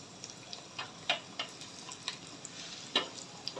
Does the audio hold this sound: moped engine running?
no